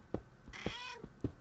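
A pet cat meows near and clear, one drawn-out cry between several short sharp knocks, likely a keyboard being bumped, indoors.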